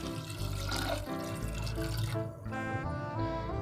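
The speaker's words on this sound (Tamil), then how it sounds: "இது முழுகிற அளவுக்கு தண்ணி ஊற்றிக்கலாம்." Water poured into a pressure cooker over soaked chickpeas, a steady splashing, gurgling stream filling the pot, close and fairly loud, with a brief pause midway before pouring resumes.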